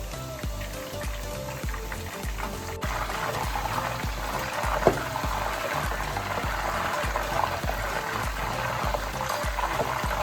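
Salted water sprinkled into hot oil over frying banana wafers gives a steady, close sizzle and bubbling hiss, with a brief sharper splash partway through and no voices.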